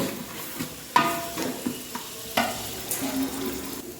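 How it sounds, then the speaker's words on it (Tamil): Stirring in hot oil in a pan while fish is cooked for a fish fry koottu, with a continuous sizzle and several sharp spatula scrapes and knocks up close. "எண்ணெயிலே நல்லா ஃப்ரை ஆகிறது பாருங்கள் இந்த மாதிரி தான் நம்ம வந்து வதக்கிறோம்"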